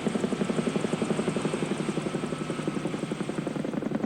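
Helicopter flying ignition over a logging slash burn on a North Vancouver Island clearcut in 1992, its rotor thumping steadily and close for the whole stretch with a constant engine whine and no talking.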